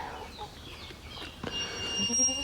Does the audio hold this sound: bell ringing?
no